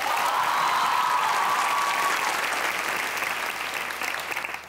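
A studio audience at a Pakistani TV comedy talk show claps in a loud, dense burst that holds steady and then gradually thins and fades toward the end.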